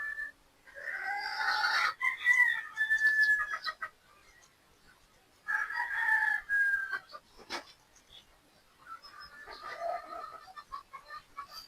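Young pullets and roosters at a game farm, heard as repeated crowing and clucking bursts with short pauses between calls, fairly close and without talk.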